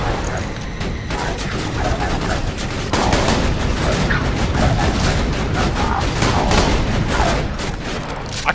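A small machine gun fires in Borderlands 2 during the Saturn boss fight: loud, rapid, sustained bursts of gunfire rattle on without pause, with heavier impacts and booms mixed through the barrage.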